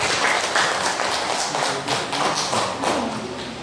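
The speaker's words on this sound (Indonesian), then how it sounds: "Berikan tepuk tangan dulu untuk Wida." An audience at a school positive-culture program in Sumenep claps for Wida, a moderately loud scatter of hand claps that holds steady for a few seconds before easing off.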